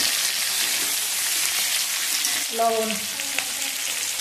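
Potatoes hit hot mustard oil in a pan already holding bay leaf, whole chillies, cumin, ginger and tomato, a steady close sizzle and crackle for an Indian potato dish, with a brief spoken word and a clink partway.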